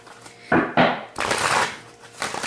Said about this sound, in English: I'm going to give it 3 shuffles.